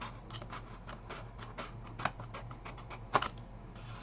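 Scissors snip a clear Lexan RC car body in a quiet room, a series of faint, irregular crisp cuts and clicks, with a few louder snaps.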